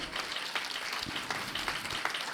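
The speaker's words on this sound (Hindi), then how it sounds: "एक बार जोरदार ताली है।" Audience applause at a live poetry gathering in Dehradun, a dense burst of many hands clapping steadily throughout, loud and close with no voices over it.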